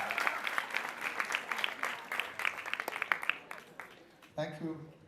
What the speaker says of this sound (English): Come on, let's give a big round of applause.